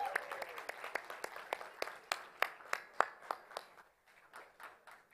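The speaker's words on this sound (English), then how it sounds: "Please welcome her to the stage with a big round of applause." An audience claps to welcome a speaker at a DevFest 2022 machine learning conference in Bangalore, starting as a busy patter of hands and thinning to a few scattered, distinct claps over about five seconds.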